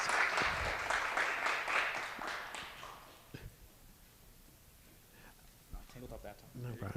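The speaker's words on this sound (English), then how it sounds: "let's give them and everyone a round of applause" Applause from an audience at student civic presentations fills the first few seconds and then fades, after which a person starts talking.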